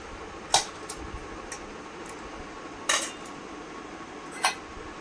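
A metal lid set onto a cooking pot in a Bengali home kitchen, with a few sharp, bright clanks spaced out over a few seconds against a quiet background hiss.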